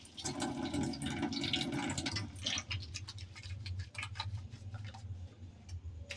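Tap water runs for a couple of seconds while hands are washed in a home kitchen, then stops, leaving scattered small clicks and taps.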